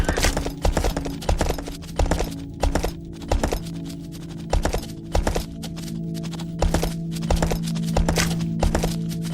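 Horse hooves clip-clop steadily in the video game Kingdoms, a rhythmic run of hoof strikes over a constant low game hum, fairly close and moderately loud with no talk.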